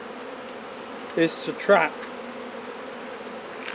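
Honey bees at an open hive during an inspection keep up a steady, even buzzing drone from start to finish, with a short stretch of a person speaking over it partway through.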